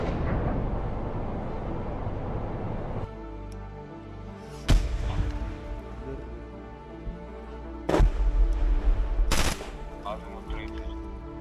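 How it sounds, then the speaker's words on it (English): Gunfire and heavy blasts from an advancing tank convoy firing on Ukrainian positions: a continuous rumbling roar broken by three sharp, loud booms, with the last two close together. "The convoy keeps advancing, firing at Ukrainian positions."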